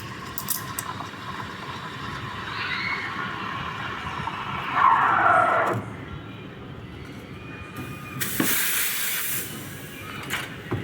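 Espresso machine steam wand steaming milk for a latte, a broad hissing rush that surges louder for a moment midway and again near the end over steady background noise.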